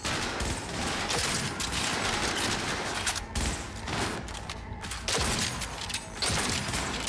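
Sustained gunfire in the video game Cyberpunk 2077, dense rapid bursts of automatic shots with brief pauses, loud and continuous over a busy combat mix.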